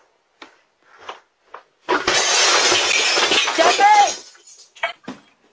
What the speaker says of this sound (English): Somebody just crashed through the window.